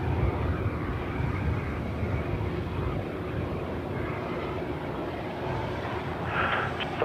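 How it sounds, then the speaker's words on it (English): A jet aircraft engine at Sydney Airport roars steadily as a broad, even rush of noise with its surge valve venting. A brief higher whine rises near the end, and no one speaks. "You can actually hear the surge valve."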